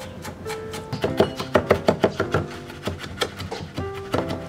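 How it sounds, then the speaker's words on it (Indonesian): Garlic and shallots are crushed and chopped on a board, a close run of sharp rhythmic knocks, loud and steady, with no talk. "Pertama kita geprek dulu nih, bawang putih, bawang merah."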